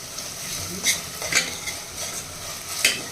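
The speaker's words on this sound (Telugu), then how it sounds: "చూడండి చక్కగా ఫ్రై అయిపోయినాయి టమాటా ముక్కలు కూడా ఆయిల్ చూసారా సెపరేట్ అయిపోయింది" Tomato pieces frying in oil in a pan while being stirred, a steady soft sizzle broken by a few sharp scraping stir strokes, close and alone with no talking.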